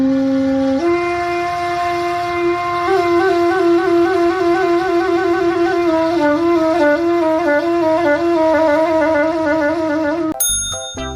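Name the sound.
saluang, Minangkabau bamboo flute, playing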